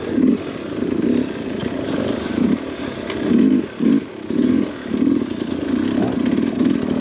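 An enduro dirt bike engine revs hard and repeatedly on the limiter in dry conditions, a loud, close, buzzing mid-pitched drone that surges and dips in rapid pulses throughout.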